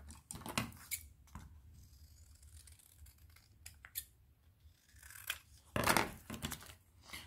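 Scissors snip through paper while trimming pieces for a scrapbook photo album, a series of close, crisp cuts with short pauses, the loudest burst near the end, in an otherwise quiet room.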